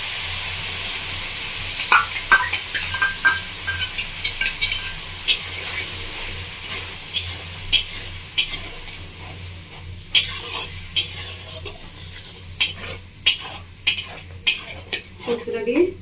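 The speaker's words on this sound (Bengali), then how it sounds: "পোস্তটা দিয়ে ভালো করে একটু নাড়িয়ে নিয়েছি।" Poppy seed paste with mushrooms being stirred in a pan over medium flame, with a soft sizzle under repeated scraping and clinking of a spoon against the pan, growing busier toward the end.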